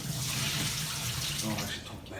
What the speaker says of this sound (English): I'm going to have to tip a bit of this water out.